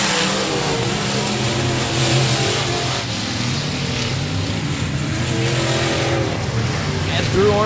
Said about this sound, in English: Here comes number 70, Michael Rhodes, pogo sticking the car down the back straightaway.